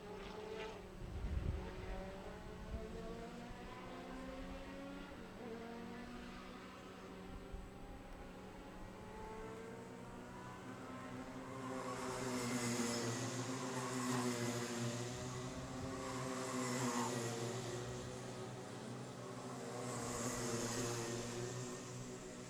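Rotax racing karts run a track in Jupiter, Florida during a winter race series, a steady nearby engine drone with rising and falling harmonics, then several high-pitched bursts as karts pass closer, no talk.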